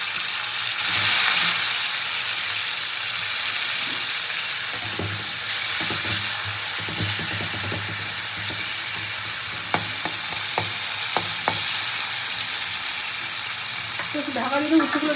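Bitter gourd frying in hot oil in a wok gives a steady, close sizzle with crackling bursts and a few sharp pops throughout, with no talking.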